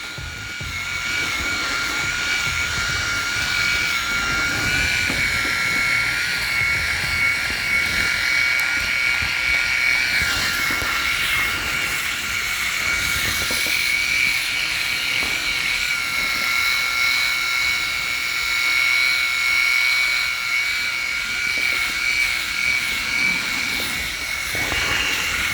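A Remington Balder Pro electric shaver runs continuously while shaving a head, giving a steady, close, high buzzing whine with faint rubbing and scraping over the skin and no talking.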